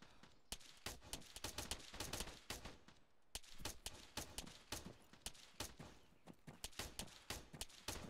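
Rapid gunfire in the military video game Arma, dense overlapping bursts and single shots crackling at varying distances, some sharp and near, others more distant, continuous for the whole stretch with no talking.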